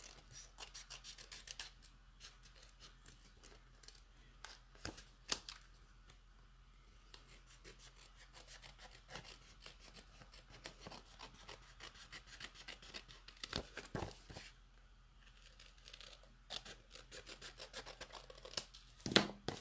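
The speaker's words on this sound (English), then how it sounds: "I'm going to take my scissors and just trim around the edge." Quiet, intermittent snipping and rasping of scissors trimming around a paper card's edge, with soft scattered clicks and rubbing sounds, close by and no talking.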